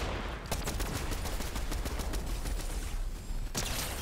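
Rapid bursts of gunfire crackle through a Fortnite match, dense repeated shots running nearly nonstop for several seconds before a louder final shot.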